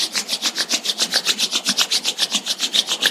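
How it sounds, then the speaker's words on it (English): Two palms rubbed briskly together in a steady back-and-forth rhythm, about five strokes a second, each stroke a soft close swishing hiss, alone and without talk. "let's generate some energy between our palms by rubbing our hands against each other"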